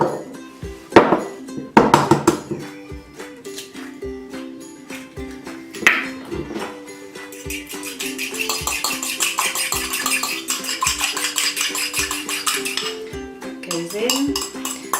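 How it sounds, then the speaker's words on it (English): Fork clinking and scraping against a bowl while an egg is beaten for cobnut and cranberry biscotti, starting with a few sharp separate taps and then settling into fast, steady, close metallic beating. "And then we're going to beat an egg."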